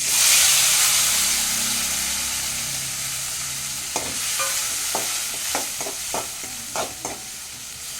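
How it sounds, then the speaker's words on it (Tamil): Dried chillies and chopped tomatoes fry in a pan for tomato rice, starting with a loud hissing sizzle that gradually softens, then a series of scraping and clinking stirs up close. "காஞ்ச மிளகாய் இது இது கூட சேர்த்து பொரிய விடணும் அரிஞ்சு வச்சுருக்க ரெண்டு தக்காளி இதை கூட சேர்க்குறோம்"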